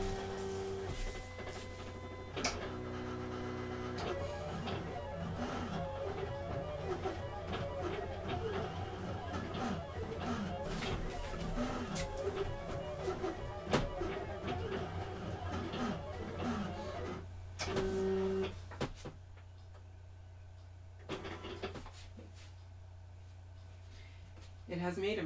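A Cricut Explore One or Silhouette Cameo 2 craft cutting machine working on material, a steady motorised whir with repeated clicks and shifts, continuing under talk before a quieter pause and a final burst of movement.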